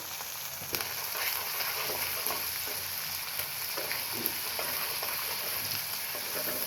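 Onion frying in hot oil with chili and turmeric powder, a steady close sizzle with occasional soft stirring scrapes and light clicks, no voices.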